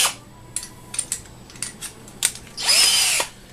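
A cordless drill fitted with a 1/8 stepless bit whirs in several short bursts and then a longer, louder whine near the end, with clicks and metallic clatter between the bursts, close up and alone.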